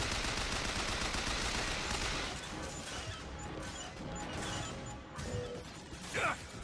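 A Gatling gun fired by the Patriot, a winged George Washington automaton enemy in the video game BioShock Infinite, rattles in a loud, dense, continuous burst of rapid shots with metallic clanks, easing slightly toward the end before a final sharp crack.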